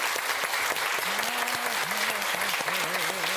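A TV studio audience gives sustained, full applause after a Georgian pop singer's song on an evening talk show. The clapping stays thick and even throughout, while a voice talks over it partway through.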